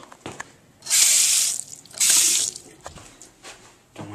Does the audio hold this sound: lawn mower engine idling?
no